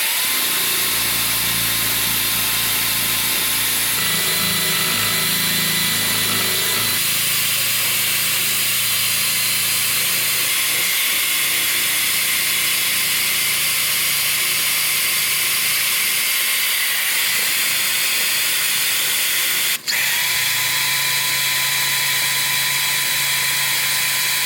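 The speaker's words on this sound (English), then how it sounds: "Gonna start grinding all this junk off where we gotta cut it, grind it off" An angle grinder works on the rusty steel subframe of a 2004 Pontiac GTO, grinding metal down to a bare surface with a loud, continuous hiss. There is a change in pitch early on and a sharp tick near the end.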